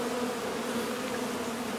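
Honeybees from a large hive built under a house buzz in a steady, dense drone close by, continuous and alone with no voices.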